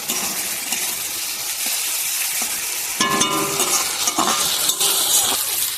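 Ginger-garlic masala sizzles steadily as it is sautéed in a pan, with scraping stirs and a few clinks of the utensil against the pan, loudest during a burst of stirring about halfway through; no one speaks.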